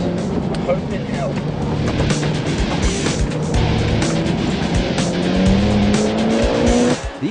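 Mitsubishi Evo X FQ400 launching from a standing start through a timed slalom, engine revving hard with rising gear pulls and tyre squeal throughout, loud and close, with a voice talking over it.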